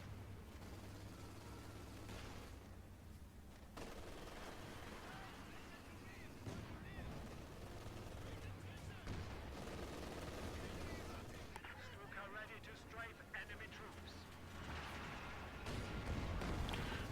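Panzerwerfer rocket artillery pounds the field in a Company of Heroes 2 battle, its booming barrage and gunfire-like bursts mixing into a dense, continuous, rumbling wash of explosions at moderate distance.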